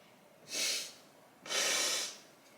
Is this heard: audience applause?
no